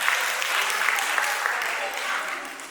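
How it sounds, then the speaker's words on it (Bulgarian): A village audience claps at a spring concert in Yagodovo, dense, even applause filling the room without a break, loud and close throughout. "Аплодисменти още веднъж."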